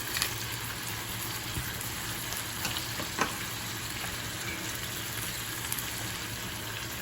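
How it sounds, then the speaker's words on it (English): Chicken thighs fry over medium-high heat, giving a steady soft sizzle and crackle with occasional small pops and faint stirring clicks, nobody talking. "While my chicken thighs are cooking on a medium-high temperature"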